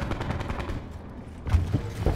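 SOG submachine gun fire in Call of Duty Black Ops: dense, rapid bursts of game gunfire rattle almost without pause, growing louder and punchier near the end, with no talk.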